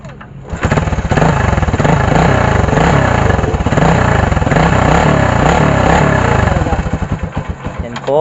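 Motorcycle engine test-run after repair using a substitute CDI, starting up and running loud and close with steady chugging and revving, idling down near the end.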